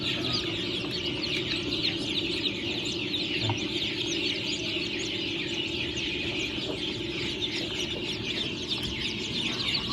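Young H'mông native chickens, chicks among them, cluck and peep steadily at close range, with a continuous murmur of the flock underneath.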